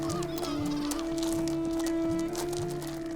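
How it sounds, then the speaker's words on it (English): Two male sooty gulls call in a territorial quarrel at a seabird colony, harsh repeated honking and bleating cries over a steady droning background, fairly close and continuous. "Two male sooty gulls are locked in a bitter territorial dispute."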